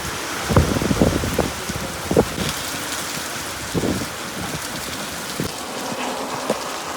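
Rain patters steadily on surfaces nearby, with scattered louder splashes and thumps breaking through the even hiss.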